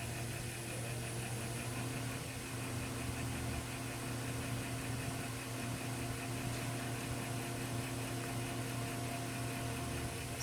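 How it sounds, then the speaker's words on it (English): A metal lathe spins with a newly fitted, wobbling chuck, producing a quiet, steady motor hum with a faint rhythmic vibration that runs unchanged throughout, with no voices. "Let me turn on the lathe."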